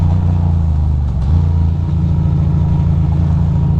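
A motorcycle engine on a city street drones close and steady, dips briefly with a shift, then pulls harder again with a throbbing, rising tone.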